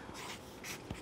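A pen scratches on paper in short, faint strokes while sketching a virus diagram, close and quiet with no talk.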